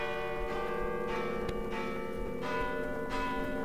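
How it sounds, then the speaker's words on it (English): Church bells ring at midnight on Christmas, a steady sustained peal with repeated strikes blending into a continuous resonant hum, moderately loud and without talk. "Listen, the bells."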